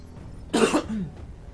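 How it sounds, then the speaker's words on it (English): A single short cough, close and clear, followed by a faint throat sound in an otherwise quiet room. "I do apologise for the coughing."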